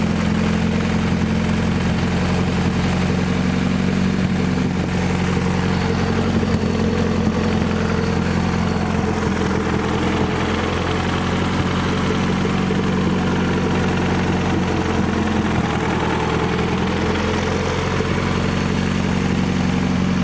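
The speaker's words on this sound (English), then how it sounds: "that's about as low as I'm going to be able to get the idle" A car engine fitted with an eBay turbo and upgraded cams idles steadily and close for about twenty seconds, a constant low rumbling hum with slight wavering and no voices.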